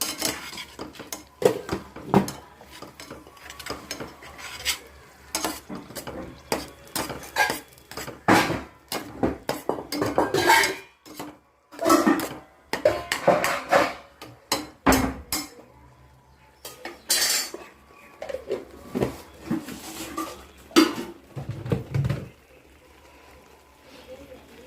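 Prawn masala is stirred in a pan, with irregular metal scrapes and clinks of a utensil against the cookware, occasional louder knocks, and a voice talking over parts of it.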